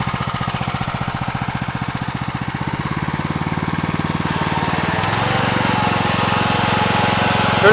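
A farm machine's engine chugs in a fast, even rhythm close by, then throttles up partway through so its pitch climbs and the running grows steadily louder, with no voices.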